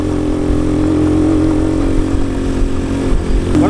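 Keeway CR152 motorcycle engine droning steadily and loud while riding off-road in New Zealand, with a continuous rough rumble and small throttle fluctuations throughout.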